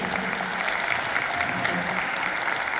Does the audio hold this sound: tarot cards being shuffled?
no